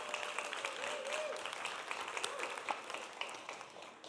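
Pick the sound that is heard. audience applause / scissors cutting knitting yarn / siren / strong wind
audience applause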